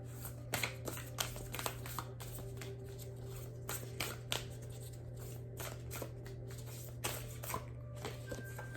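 Tarot cards being shuffled by hand during a reading, with repeated crisp riffling and slapping bursts at an uneven pace over a steady low hum, close and fairly clear, with no talk.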